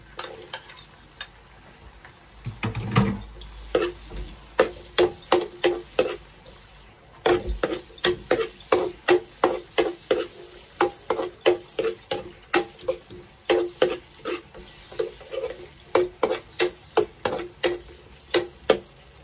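Onion and garlic hit a hot pan to sauté, setting off a soft sizzle, then a long run of rhythmic ticking scrapes as a utensil stirs and taps against the pan.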